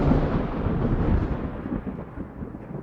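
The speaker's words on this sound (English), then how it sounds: "what we hear is multiple rumbles of that short," Thunder after a lightning strike, a loud deep rumble that rolls continuously and slowly fades over a few seconds, heard alone.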